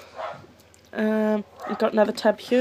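A dog barks and yips in short bursts indoors, the sharp calls landing right after a woman's speech and alternating with it.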